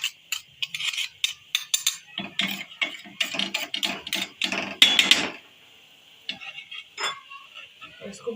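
A spoon scrapes and knocks against a pan as chana dal halwa is roasted and pried loose from the bottom, giving quick repeated scraping strokes in bursts, close and fairly loud, fading to a few scattered scrapes near the end.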